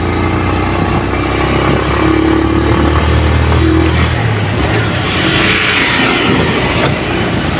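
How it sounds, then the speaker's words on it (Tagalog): Highway traffic in Teresa: loud, continuous vehicle rumble with engines passing close and accelerating, a steady roar that shifts as vehicles go by, with no talking. "Andito na tayo mismo sa highway ng Teresa."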